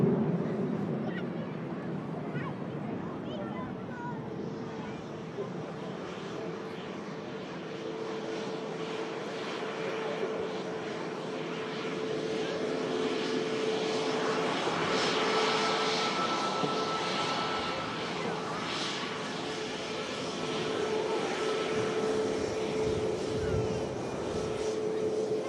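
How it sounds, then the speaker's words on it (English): An Airbus A330 jet takes off at Manchester Airport on a cold morning, its distant engine rumble swelling to a louder roar midway and then holding, with no voices over it. "A330 rocketing off"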